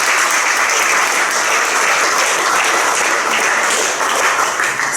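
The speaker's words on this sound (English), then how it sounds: "let's give a round of applause" An audience at a DeFi investor panel event claps for the speakers, a loud, continuous stretch of crowded applause lasting several seconds.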